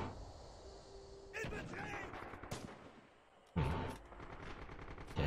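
Gunshots and rattling bursts of fire in multiplayer Red Orchestra 2 battle, loud blasts rising over a continuous background of combat noise, with a voice talking over parts of it.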